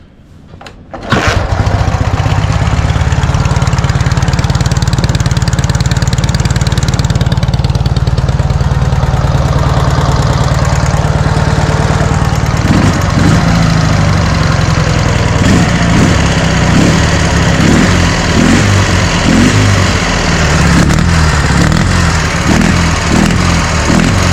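Dnepr MT11 motorcycle engine with PZ30 carburetors idling steadily after tuning, starting up at the outset and then holding a loud, continuous close-range putter with a rhythmic low pulse and no talk.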